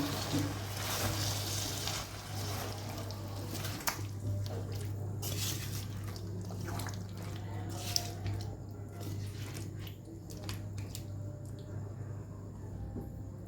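Cashew, tomato and dried chilli gravy being stirred into chicken in a pan, giving soft wet squishing and scraping sounds that run steadily throughout over a constant low hum.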